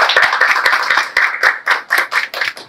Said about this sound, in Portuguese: Palmas aí para a nossa conferência